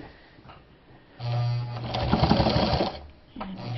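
A Japanese-made Sewmor sewing machine stitches bonded leather from an old jacket on a long stitch, giving a loud, steady mechanical whirring burst of about two seconds that stops, then starts again briefly.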